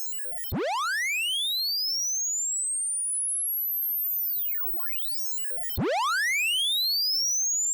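A pure sine tone sweeps upward in pitch through saturation, shadowed by aliasing tones that slide the wrong way and fold back down, then the rising sweep begins again.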